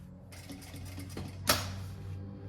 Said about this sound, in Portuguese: E continuo a costura.